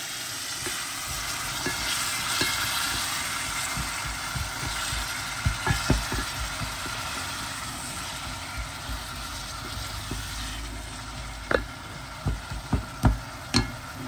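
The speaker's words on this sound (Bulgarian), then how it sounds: "Нарязваме сега лука и доматите и ги запържваме в една тенджерка." Onions and tomatoes fry in a pot with a constant close sizzle, punctuated by scattered knocks and scrapes of stirring that grow sharper toward the end.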